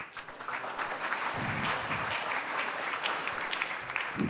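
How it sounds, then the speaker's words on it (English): At a Flutter web development talk, an audience claps steadily for several seconds, a moderate, even patter of hands with a few faint voices underneath. "clap for those who took the chance to speak."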